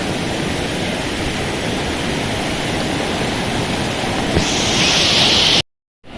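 Loud, steady roar of rushing water pouring over Vandri dam, a dense continuous wash of noise that cuts off abruptly near the end.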